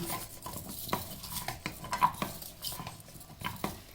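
White sesame seeds being tossed and mixed into Korean fried chicken, a utensil scraping and clinking against the pan in quick repeated strokes, close and moderately loud with no talking.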